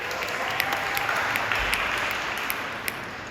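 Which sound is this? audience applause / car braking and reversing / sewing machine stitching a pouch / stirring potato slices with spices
audience applause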